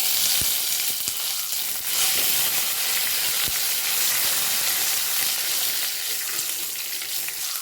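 Dried red chillies and curry leaves crackle and sizzle in hot oil with a steady, close frying hiss that stays loud throughout, broken by a few sharp pops and spatters.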